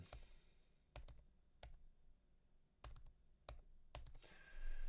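A mobile number is typed on a keyboard in a quiet room, with a handful of separate, crisp key taps spaced out unevenly, close and faint.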